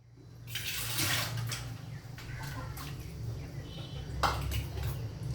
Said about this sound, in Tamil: ஜார கழுவி தண்ணி ஊற்றிக்கலாம்.